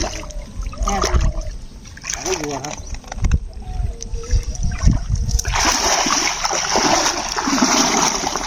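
River water in the Sundarbans splashes and sloshes as a husband and wife haul a fishing net at high tide, with steady splashing that grows louder midway, while people talk over it.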